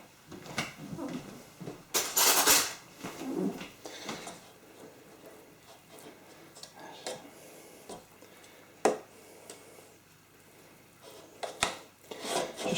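A spoon scrapes and smooths soft frangipane filling across a raspberry Bakewell tart in a pastry case, giving intermittent close rasping strokes with brief louder scrapes and quieter gaps between them.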